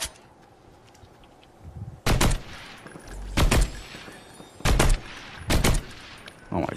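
Gunfire in the Fortnite video game comes as about five loud, sharp bursts spaced a second or so apart, standing out against a low, quiet background between shots.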